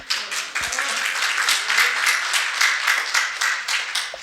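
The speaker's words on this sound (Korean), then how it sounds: "전화하실 것 같으면 박수 부탁드립니다" A lecture audience gives a loud, close round of applause, with crisp individual claps forming a fast, uneven patter that stays strong throughout.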